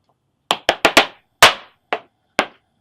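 Sharp percussive heel and toe strikes of flamenco escobilla footwork on a hard floor, a quick cluster of four followed by spaced single stamps, crisp and close.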